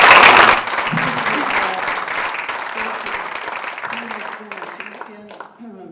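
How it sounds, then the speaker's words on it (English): An audience at a public talk gives a round of applause, many hands clapping loudly at first and then thinning out, while a voice speaks over the fading claps. "We should give a round of applause for"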